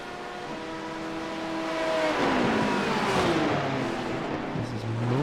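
GT3 race cars in the iRacing sim roar past in close succession, engines rising and falling in pitch as they pass with a brief tire squeal, loud and continuous throughout.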